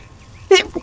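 A single sudden sneeze, close and loud, bursts out of a quiet room during a kebab-cooking game livestream and is over in a fraction of a second.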